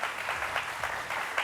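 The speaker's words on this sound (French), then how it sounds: "Et ça s'applaudit." A studio audience gives a short, faint burst of applause at a Vrai Match broadcast, steady patter of hands with no voices.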